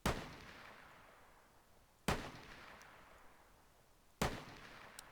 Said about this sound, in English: Here we have a group of 5 shots.